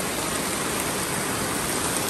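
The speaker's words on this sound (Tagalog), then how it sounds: "Lumalakas na yung ulan." Heavy rain pouring steadily at a farm near a rising river, a dense unbroken hiss with no voices.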